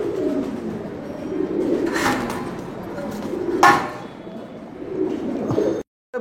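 A pet Mookee pigeon, a short red variety, coos in a low, soft murmur through most of the stretch, close by, with a couple of sharp knocks and a brief dropout near the end.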